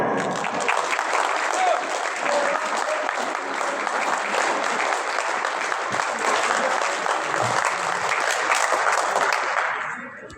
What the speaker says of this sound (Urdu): تو آپ سب کی بھرپور تالیوں میں تشریف لاتے ہیں سر اجمل۔